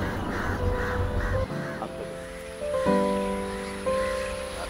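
Crows cawing close by in a series of harsh calls, over a steady low background, near a myna trapped in thread in an isolated water area.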